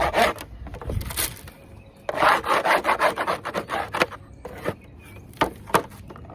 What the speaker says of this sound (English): I'm going to scrape it down. It's got wax moth cocoons.